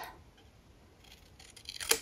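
Scissors cutting through folded paper, a soft close snip at the start and a crisper, louder cut near the end against a quiet background with no speech.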